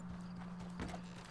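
Horse hooves clopping on the ground in Red Dead Redemption Online, a few quiet, soft steps over a low steady hum.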